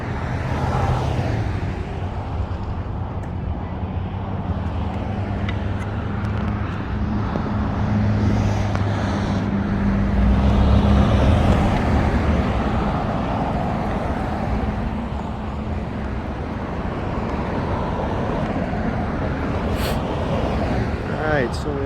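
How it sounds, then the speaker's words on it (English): Steady roar of heavy traffic on a busy high-traffic road in Colorado Springs, continuous and fairly loud throughout, with low engine drones swelling as vehicles pass close by. "I am next to a pretty high traffic road, so I'd like to apologize in advance for all of the road noise here"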